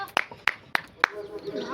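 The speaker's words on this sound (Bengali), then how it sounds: "হাততালি হাততালি হাততালি" Four sharp hand claps ring out at an even, brisk pace during a village roti-making challenge, close and crisp, followed by a brief voice.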